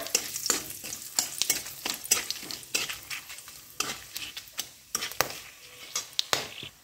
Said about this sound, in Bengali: একটু ভাজা ভাজা করে নিচ্ছি ফোড়নটা।